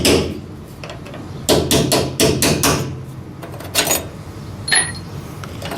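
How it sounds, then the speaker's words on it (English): A hammer strikes a punch to turn the locking ring on a Ford Mustang GT fuel pump, giving a burst of quick sharp metallic taps, then a few slower isolated knocks, close and loud with no talking. "I just use a punch and a hammer and just slowly"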